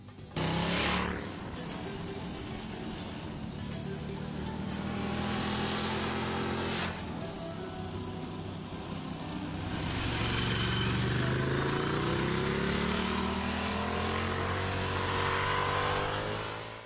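A Bimota motorcycle engine at the Italian factory revs up, climbing in pitch with the throttle twist, then settles and rises again into a loud, strained wail, close and with no voices.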